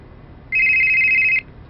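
A single electronic telephone ring tone sounds once as a steady, bright beep lasting about a second, clear and close over a quiet background, with no voices.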